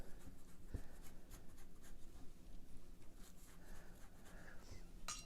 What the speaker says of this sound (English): I'm going to get this wet just with some clear water.